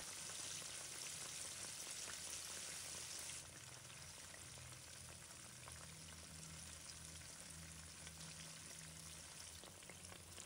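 Pieces of flour-coated fish deep frying in hot oil for sweet and sour fish give a steady, dense sizzle and crackle throughout, close and continuous, easing slightly partway through.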